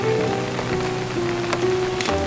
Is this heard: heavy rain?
yes